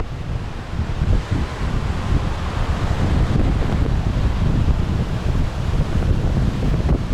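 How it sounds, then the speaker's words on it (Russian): Strong sea wind during a storm on the Alanya coast in Turkey roars steadily and buffets the microphone, with surf rumbling faintly underneath and no one speaking. "но такой вот шторм и сильный ветер с моря"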